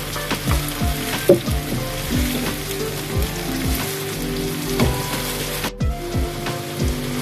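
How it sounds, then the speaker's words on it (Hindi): Ground onions fry and brown in a pan, a loud steady sizzle broken by rhythmic spatula scrapes and knocks against the pan. "अब हम इसमें 2 बड़े प्याज जो हमने ग्राइंड करके रखे थे वो डाल रहे हैं और इनको हल्का सा ब्राउन होने देते हैं।"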